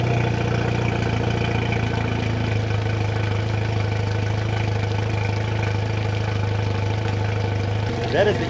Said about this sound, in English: That is the easiest I've ever had an outboard start, especially after sitting as long as it has.